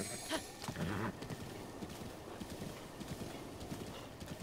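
Horse hooves clip-clop at a steady ride in the video game Zelda: Breath of the Wild, quiet and even with a brief whinny-like tone early on.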